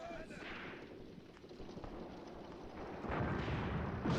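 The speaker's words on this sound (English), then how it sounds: "ideal to get the mortars into action. Sounds like now." Mortar fire in the Graviteam Tactics: Mius Front war game, heavy booming blasts rolling under a dense low rumble, with a louder burst of impacts near the end.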